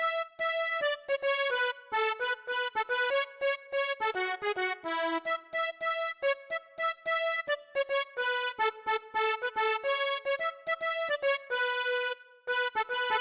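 A Koriana melody played on the Latin Eben VST, a bright synthesized accordion-like lead, runs in quick staccato phrases with occasional held notes, steady and upfront with no voices.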